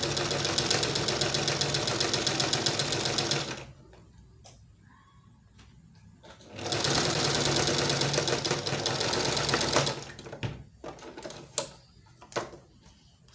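A sewing machine stitches corset cup pieces in two bursts of fast, even mechanical rattling, each lasting several seconds, separated by quiet pauses filled with small handling clicks and taps.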